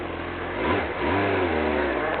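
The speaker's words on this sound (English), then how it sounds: "you can hear I'm giving it just a little bit more gas" A learner's motorcycle engine revs up in short throttle blips as it rolls away, its pitch rising and falling close by before settling into a steady run.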